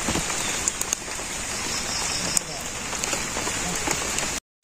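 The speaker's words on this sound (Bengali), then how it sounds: "বৃষ্টি নামছে" Light rain falling in a village, a steady close patter and hiss that runs evenly throughout before cutting off abruptly at the end.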